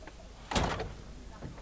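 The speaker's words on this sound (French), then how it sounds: "On referme les portes." Rear doors of a Hymer motorhome swing shut with one solid thump, followed by fainter rattles and a second softer knock near the end, close by and in a quiet setting.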